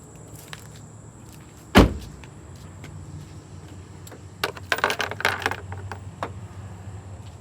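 Plastic gloss black grille being fitted onto an Infiniti G37, with a sharp thud, then a cluster of clicks, snaps and rattles as clips and parts are handled close by in a quiet garage.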